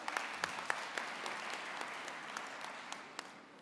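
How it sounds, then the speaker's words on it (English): Applause from an audience at a university Faculty of Education graduation ceremony, a steady broadband patter of clapping with a few sharper claps standing out, moderately distant and fading slightly toward the end. "Give him a round of applause."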